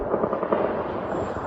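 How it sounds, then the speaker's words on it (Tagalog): Distant gunfire during a tense news report, a dense crackling rumble of overlapping shots, steady and muffled at a distance with no voices. "Sa isang punto ng pagbivideo dinig ni Glenda ang pagputok ng mga tila baril"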